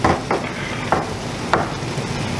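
Seasoned chicken pieces frying in a pan for empanada filling, with a steady sizzle under a few sharp clacks of a utensil stirring and scraping the pan, spaced roughly every half second to second, close and moderately loud.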